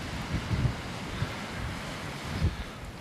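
Sea waves wash over sandstone rocks in a steady low surging rumble, mixed with wind buffeting the microphone and a few heavier swells.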